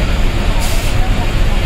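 A bus rumbles loudly throughout a ride on the way to a village, a constant low engine and road roar with a brief hiss partway through, while someone talks over the noise.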